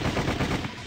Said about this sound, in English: The moment we rounded the corner, we heard the crackle of gunfire behind us.